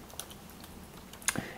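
A computer keyboard being typed on, with a few faint scattered keystrokes and then a sharper, louder pair of clicks near the end, with no talk.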